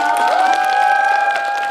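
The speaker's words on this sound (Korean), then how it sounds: "오늘 함께해주신 두 분의 큰 박수 부탁드리겠습니다" Applause from an audience at a film screening talk, a brief steady wash of clapping under a sustained tonal sound.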